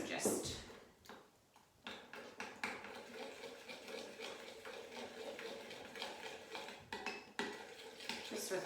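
A spoon clinks and scrapes around a bowl while liquid satay sauce is mixed, quick irregular taps and stirring under a person talking.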